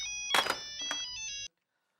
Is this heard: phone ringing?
yes